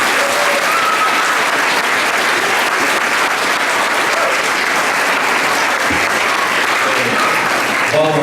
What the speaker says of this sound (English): So let's give these students a big round of applause.